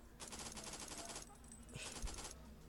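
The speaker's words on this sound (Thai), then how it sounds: "คนอาจจะเห็นแล้วเนาะเอฟเฟกต์การยิงปืนบอสมจริงมันได้เนาะ" Rapid automatic gunfire in the mobile shooter Fwd Assault, a dense rattling burst lasting about a second, then a short pause and a second shorter burst, heard faintly at low volume.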